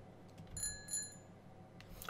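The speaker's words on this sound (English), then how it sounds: "I talked to the bike to ring the bell" A bicycle bell in the video game 303 Squadron rings faintly twice in quick succession, short bright metallic chimes over a quiet background, with a soft clatter near the end.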